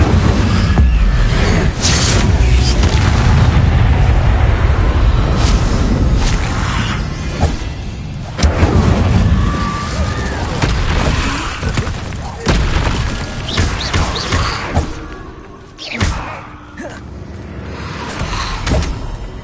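Incendio fire spell in Hogwarts Legacy, cast repeatedly: booming whooshes and bursts of flame arrive in quick succession, loud and close, with game effects between and a voice calling out.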